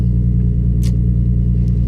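Bentley Continental GT engine idling at about 1200 RPM through a Racing Sports Concepts exhaust, a loud, steady low rumble with an even pulsing throb and a couple of faint clicks.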